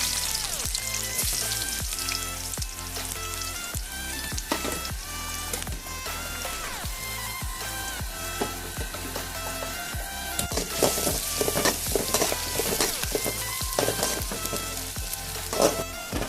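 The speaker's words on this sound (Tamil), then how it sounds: "சட்டியில் எண்ணெயை ஊற்றிருக்கேன். வெங்காயம் போடுறேன்." Onions fry in oil in a pan during home cooking for a country crab gravy, giving a steady crackling sizzle that runs throughout with scattered sharper pops, with no talk.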